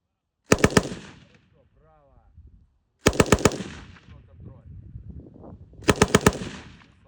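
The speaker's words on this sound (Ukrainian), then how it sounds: "Я, наприклад, навчився стріляти з американського важкого кулемета М240." Three bursts of M240 heavy machine gun fire, each a rapid string of loud shots, separated by pauses with faint movement and murmuring, during military recruit training.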